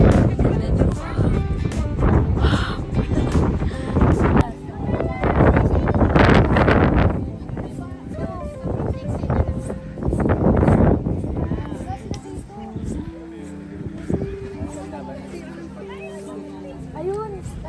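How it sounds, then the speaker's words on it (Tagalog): Strong gusty wind buffets the microphone in heavy roaring bursts, with people chattering nearby throughout. "Grabe yung hangin."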